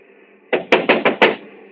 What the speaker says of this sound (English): First of all, we'll try rapping on the door.